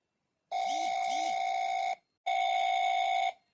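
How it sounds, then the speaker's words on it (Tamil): A cartoon phone rings in two long electronic bursts with a short gap between them, loud and clear against a silent background. "என்ன யாரோ ஃபோன் பண்ற மாதிரி இருக்குது"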